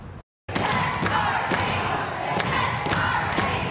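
Protesters inside the California legislature chanting as a crowd while repeated heavy thumps bang on walls, loud and dense, after a brief silent gap at the start.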